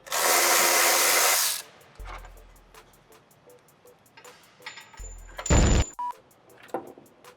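Electric power tool removing strut bolts on a Honda S2000, a loud whirring burst up front, then a few shorter mechanical bursts and clicks with quiet gaps between.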